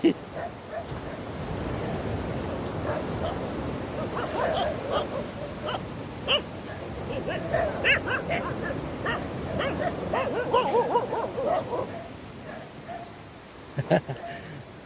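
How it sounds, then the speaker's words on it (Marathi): Dogs snarl and bark in a scuffle on Chivla Beach, Malvan, sharp yips and growls over steady surf noise, with a few loud barks near the end. "कुत्र्यांची भांडणं पण डेंजर असतात"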